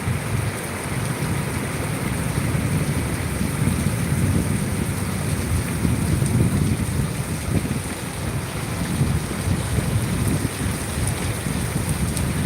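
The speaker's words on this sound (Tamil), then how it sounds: "இடி சவுண்டெல்லாம் கேட்குதுங்களா இடி மழை சவுண்டெல்லாம்" Heavy thunderstorm rain pours steadily with a low, rumbling undertone of distant thunder, a constant loud downpour with no voices.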